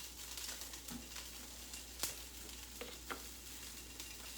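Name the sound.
asparagus with oil, salt and pepper sizzling in a pan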